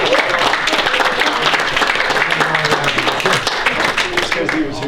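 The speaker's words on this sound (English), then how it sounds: "Round of applause." Audience applause for a raffle prize winner at a board game convention panel, steady clapping from a crowd throughout, with some voices mixed in.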